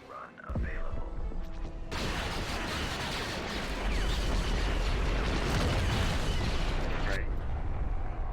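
Dense, continuous bombardment explosions from a bombing run in the Star Wars strategy game Thrawn's Revenge, loud rumbling booms that surge in after a short quiet opening and hold steady for several seconds before easing off.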